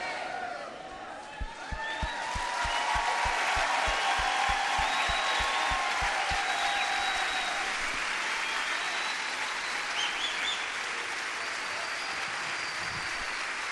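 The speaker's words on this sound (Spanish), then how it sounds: "Dele fuerte ese aplauso al Señor." Church congregation applauding loudly, dense sustained clapping that swells and holds across the room while voices shout and a low rhythmic thump pulses underneath early on, tapering slightly toward the end.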